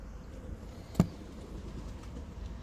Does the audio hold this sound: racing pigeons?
yes